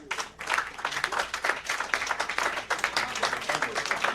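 Audience applause at an evening Liberty Day celebration in Washington DC, honoring a nun as she rises; steady crowd clapping with dense, irregular hand claps sustained throughout.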